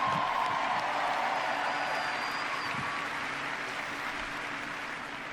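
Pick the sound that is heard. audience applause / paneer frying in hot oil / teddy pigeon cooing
audience applause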